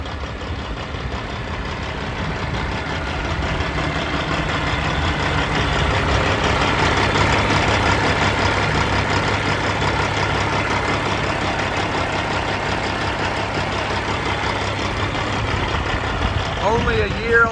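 A hot 2003 Kenworth W900L day cab truck with a single-turbo Cat 6NZ engine idles steadily, a loud continuous low rumble with diesel clatter heard close by, with no change for the full duration.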